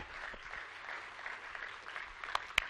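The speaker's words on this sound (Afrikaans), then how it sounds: "Ek dink ons moet hom 'n hande klap gee" A church congregation gives faint, soft applause for a speaker, a low steady patter of clapping heard from a distance, with a couple of sharper claps near the end.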